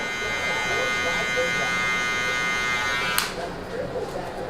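Electric hair clippers cutting a low taper, with the lever fully open, make a close, steady buzzing drone that drops off abruptly near the end and continues more softly.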